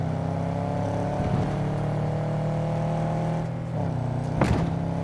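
The Mule, a car driven in Cyberpunk 2077, hums with a steady engine drone that shifts pitch slightly as it moves, with a couple of brief bumps and a sharp clunk near the end, no voices.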